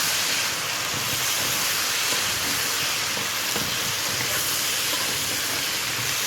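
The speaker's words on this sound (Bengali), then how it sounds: "পটলগুলো একটু ভাজা ভাজা হয়েছে, এখন আমি এর মধ্যে ভেন্ডি দিয়ে দেবো।" Okra and pointed gourd fry in a pan, a loud, continuous close hiss of sizzling oil that holds steady and cuts off abruptly at the end, with no talking.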